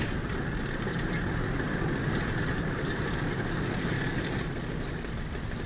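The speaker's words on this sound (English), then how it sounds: "I hear the engine up there revving up and everything." A tank engine rumbles continuously in the War Thunder video game, a steady low mechanical drone with clanking undertones at moderate distance and no voices.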